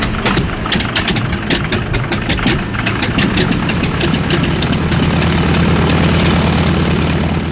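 A T-6 Texan (Harvard) propeller warbird at the Warbirds over Wanaka air show, its radial engine droning steadily and loud throughout, with a rough, pulsing low rumble that thickens toward the end.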